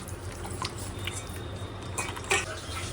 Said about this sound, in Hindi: मैं इसे मैश करूँगी ताकि इसका इसका स्टार्च निकल जाए।